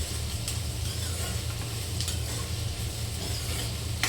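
Steady, continuous sizzling of food browning in a pan after curry leaves have gone in, loud and close, with occasional faint clinks and no talk.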